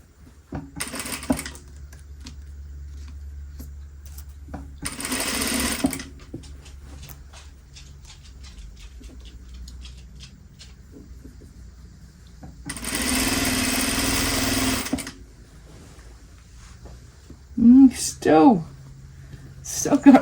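Sewing machine stitching toward a seam, running in several separate bursts of rapid, even whirring separated by quiet pauses, close, with a few sharper clicks near the end.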